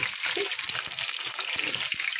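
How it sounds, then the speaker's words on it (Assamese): Crispy brinjal slices fry in hot oil in a pan, giving a close, continuous sizzling hiss with scattered pops and soft stirring knocks underneath. "এয়া ক্ৰিস্পি বেঙেনা ভাজি"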